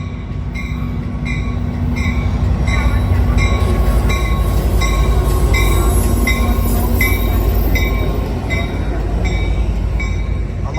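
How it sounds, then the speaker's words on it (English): Amtrak San Joaquin train 711, led by a 2005 F59PHi locomotive, at a station in Emeryville, California: a loud, steady rumble of rail cars with a rhythmic clicking pattern and a thin high wheel squeal running throughout. "this is Amtrak's San Joaquin train 711 to the Oakland at London Square Station"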